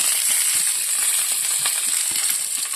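Garlic sautéing in a hot pan for a lentil curry, a steady close sizzle with faint crackles and occasional light stirring scrapes, no voices.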